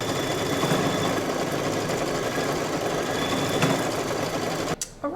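An embroidery machine stitching a quilt block in dark yellow thread runs steadily with a fast, even mechanical chatter throughout, close and loud, stopping abruptly near the end.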